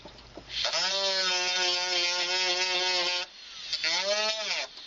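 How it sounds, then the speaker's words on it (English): A jewelry burr cuts into a claw prong setting, making a high, buzzing whine that holds steady for a few seconds, breaks off briefly, then resumes with a rising pitch. The sound is close and clear, with no talk. "I'm only using the underneath part of the burr to do the actual cutting"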